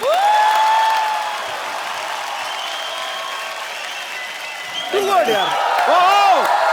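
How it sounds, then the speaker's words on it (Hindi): Studio audience applause and cheering welcome a guest onto a comedy talk show stage, a dense steady roar lasting throughout, with a voice speaking over it near the end. "प्लीज आप सबकी जोरदार तालियों के बीच इनवाइट करना चाहता हूँ"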